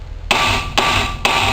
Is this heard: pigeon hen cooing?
no